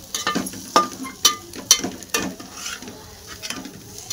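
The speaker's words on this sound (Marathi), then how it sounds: "मस्त परतून घेऊ." Poha with turmeric and spices being stir-fried in a pan, with several sharp scraping strokes of a spatula at the start, then softer intermittent stirring over faint sizzling.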